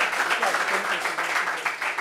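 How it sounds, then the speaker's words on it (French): An audience at a gathering breaks into applause, a sustained patter of many hands clapping at moderate volume with a faint voice mixed underneath. "Est-ce qu'on peut l'applaudir, s'il vous plaît?"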